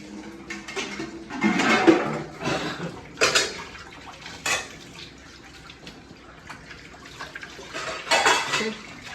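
Plates and pots being washed with soap under running water, with clattering dishes, scraping and splashing in uneven bursts close by, and no talking.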